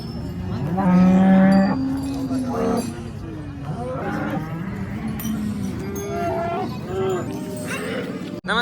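A cow moos loudly and long at a busy cattle market in Kopargaon, with further lower moos and lowing following, while people talk nearby throughout.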